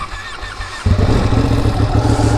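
A Ducati Panigale motorcycle engine, ridden through city streets, surges from a low idle into a loud, steady, close rumbling drone with a slight rise in revs, no talking over it.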